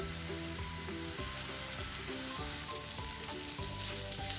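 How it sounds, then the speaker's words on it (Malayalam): Prawns frying in a pan sizzle steadily and closely, a dense crackle running throughout at low level with faint tonal sounds underneath and no talk. "അപ്പോൾ നമ്മുടെ ചെമ്മീൻ നന്നായിട്ടൊന്ന് ഫ്രൈ ആയിട്ട് വന്നിട്ടുണ്ട് കേട്ടോ"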